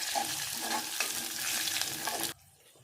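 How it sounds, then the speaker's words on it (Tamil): Garlic cloves and curry leaves sautéing in oil for a brinjal kuzhambu, a close, dense sizzle with light stirring clicks that cuts off abruptly near the end, no speech. "ஒரு 4-5 பல்லு பூண்டு போட்டுடலாம். அதில் கருவேப்பிலை போட்டாச்சு. இது நல்லா வதக்கி விடலாம்."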